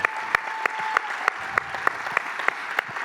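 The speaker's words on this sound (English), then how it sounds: "Let's give him another round of applause" Audience at a leadership Q&A panel discussion applauds steadily in a continuous clatter of many hands, with a few sharper individual claps standing out at regular intervals; the sound is moderately loud and fairly close, with no talking.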